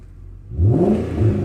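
An Infiniti FX45 V8 fitted with an all-stainless steel exhaust in place of the middle muffler revs up sharply, a loud low rising engine note swelling in two pulls after a quiet idle.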